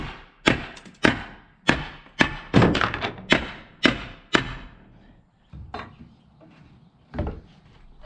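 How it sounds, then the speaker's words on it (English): Crowbar and hammer knocking apart wooden pallets: a series of about a dozen sharp, hollow wooden thunks and cracks at an irregular beat, loud and close, with brief pauses between blows. "To do that, we're going to use a crowbar and a hammer."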